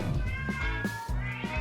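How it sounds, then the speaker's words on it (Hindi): A cat meows a few times in quick succession, close and clear, with short tonal calls and no talking. "मेरी प्यारी बिल्लियों से मिलो।"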